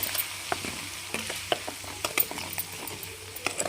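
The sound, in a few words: frying chicken for chicken pickle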